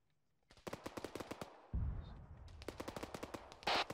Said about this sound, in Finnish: Mitäs siellä ammuta?